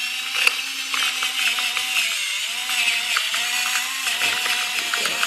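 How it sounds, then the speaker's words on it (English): A pepper grinder cranks steadily over spare ribs being prepared, giving a continuous harsh, gritty grinding with faint rhythmic ratcheting, close and fairly loud throughout, with no talking. "we're gonna take our pepper grinder"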